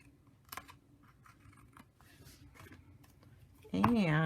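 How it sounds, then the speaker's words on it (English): Scissors snip through material in a series of short, close cuts with light scraping, followed by a voice speaking at the end. "And then we'll trim it off."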